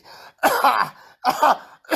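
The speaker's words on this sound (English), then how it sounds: "Stop coughing on the screen." A few harsh, close coughs from a person with Covid-19 in quick succession, each a short rasping burst separated by brief pauses.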